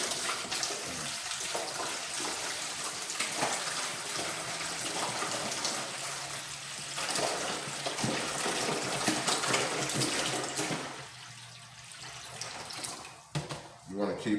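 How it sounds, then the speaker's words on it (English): Water is poured from gallon jugs into a plant-cloning container holding a submerged pump: a continuous splashing gush that varies in strength, softening briefly near the end, with occasional low voice sounds underneath. "Just gonna add this water."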